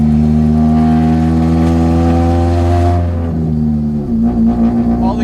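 Old first car, a Honda Civic-era Sol, with its engine running rough while driving, a loud droning engine hum with strong low tones that dips and shifts pitch partway through, close and continuous.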